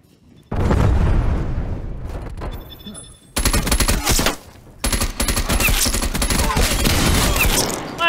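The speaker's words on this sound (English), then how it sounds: "Oh, they have a war machine too." War machine grenade launcher blasts in a multiplayer shooter game, heavy booming explosions and rapid gunfire in loud, dense bursts with short lulls between.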